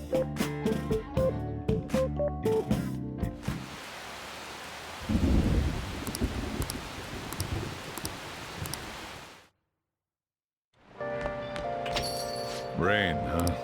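Steady rain with rumbling thunder in the video game Persona 5 Royal, over background music, broken by a brief silent gap before the music returns.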